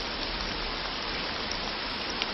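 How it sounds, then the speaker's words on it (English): Steady, dense rain falls all around at close range, a continuous even hiss of drops on surfaces with no voices. "You gotta sit in the rain."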